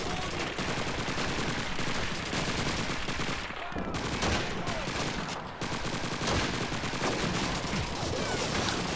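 Gunfire from the Call of Duty 2 video game, dense bursts of rifle and machine-gun fire in a winter battle, loud and nearly continuous with brief gaps.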